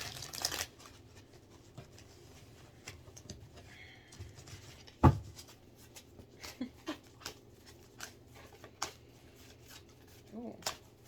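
Tarot-style lesson cards shuffled by hand indoors, a quick burst of papery riffling near the start followed by faint scattered card taps and flicks under a low background hum.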